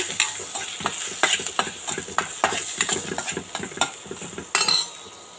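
Ginger, garlic and chopped onion stirred in a hot pan for potato bonda filling, a utensil scraping and clinking in an uneven rhythm over a steady close sizzle of frying.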